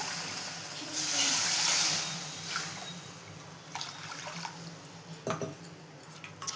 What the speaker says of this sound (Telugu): దాంట్లోకి 3 గ్లాసుల వాటర్ని యాడ్ చేసుకోవాలి